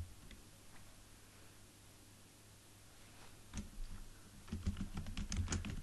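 Keyboard typing at a computer while entering PHP code for a WordPress theme, quiet scattered keystrokes at first, then denser, louder bursts of clicks toward the end.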